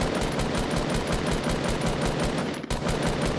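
Continuous rapid automatic gunfire from the battle royale video game Fortnite, dense and loud, with a steady rattling rhythm for the whole stretch and a brief dip near the end.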